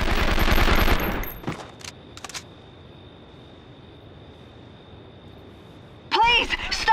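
Machine gun fire in a video game: a loud, dense burst of rapid shots for about a second, then a quiet stretch with a faint steady tone before a voice cuts in near the end.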